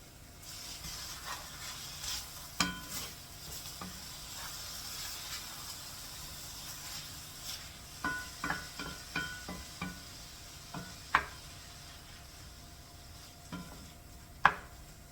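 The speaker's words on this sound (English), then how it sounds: "Let's give it a stir." A spoon stirs hamburger mac and cheese in a pot, faint scraping with a series of quiet clicks and knocks against the sides, irregular and close.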